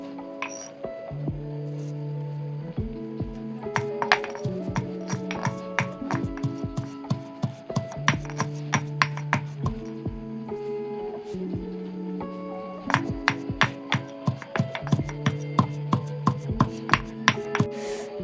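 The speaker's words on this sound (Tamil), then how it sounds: "அடுத்ததாக நாம் துளசியை இடித்து சாறை எடுக்க வேண்டும்." Tulsi (holy basil) leaves pounded to draw out their juice, a steady run of sharp, close knocks in uneven rhythm, with a faint ringing clink on some strikes, for herbal medicine preparation.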